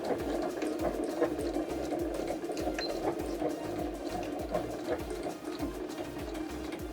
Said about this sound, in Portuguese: É uma costura reta, tá? Eu vou esticando e vou tendo cuidado aqui.